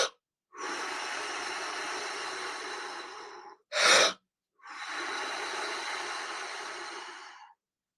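Two long, loud, full-lung gasping inhales of Wim Hof style breathing, close and breathy with no talk, separated by a short sharp snort-like burst of air.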